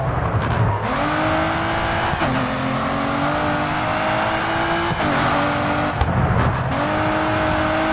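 A car in the racing game Grid 2 drifts with a sustained, loud engine roar and tire squeal. Gear shifts or lifts briefly break the steady tone several times.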